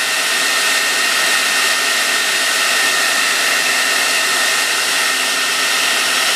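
A hair dryer blows steadily on a high heat setting, a loud, close, unbroken whooshing roar with no talk.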